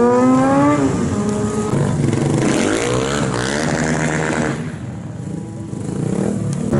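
A Kawasaki Ninja motorcycle engine revs hard and continuously at a bike stunt show, close and loud, with rising and falling pitch and some tire noise.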